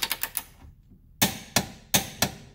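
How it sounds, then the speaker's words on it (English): A torque wrench tightens the rear lower control arm bolt of a 2013 Nissan Altima to 108 foot-pounds: a quick run of four sharp metallic clicks, a short pause, then four louder, evenly spaced clicks, close up. "go ahead and torque this thing to 108 foot-pounds"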